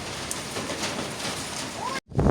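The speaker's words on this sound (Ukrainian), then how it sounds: "Будемо ми ховатися від дощу." Steady rain patters loudly and evenly on surfaces outdoors during a rainbow, a constant close hiss that briefly drops out near the end before resuming.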